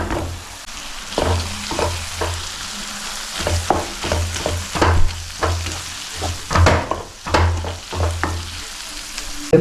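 Two green chillies frying in an oiled pan, a continuous close sizzle broken by repeated scraping and stirring knocks of a utensil against the pan, with no talking.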